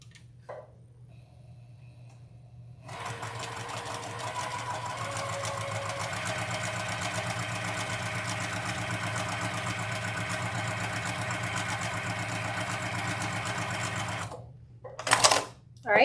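A sewing machine fitted with a 1/4 inch foot sews a quilt in one long, steady, mechanical run of about eleven seconds, starting and stopping after quieter handling sounds.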